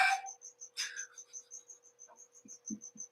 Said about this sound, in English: that's a loud little cricket or whatever